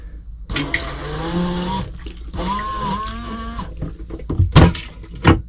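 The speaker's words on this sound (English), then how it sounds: "Yep, toilet flushes." A caravan toilet flushes after three months in storage, water rushing and gurgling up close with a loud burst, followed by sloshing and clunks as the tank empties.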